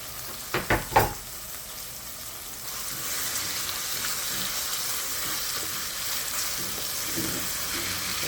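Tomato, onion and bell pepper sauté in hot oil in a pot for saltfish and ackee, a few sharp knocks at the start, then a steady soft sizzle that continues evenly to the end.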